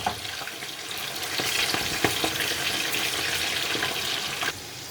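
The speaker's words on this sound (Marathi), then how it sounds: "आपण आता हे ह्याच्यात थोडं थोडं टाकून तळून घेऊ।" Batter-coated corn kernels frying in hot oil, a steady crackling sizzle with scattered pops and small stirring knocks, moderately close and without any talk.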